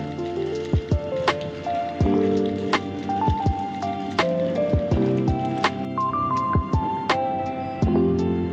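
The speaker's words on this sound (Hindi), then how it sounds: "और हकीकत में ये बारिश नहीं, ये सूरज की धूप के साथ बर्फ पिघलती हुई।" Meltwater from snow thawing in the sun drips steadily in Shimla, with irregular crisp plinks and taps close by over a soft continuous wet background, sounding much like light rain.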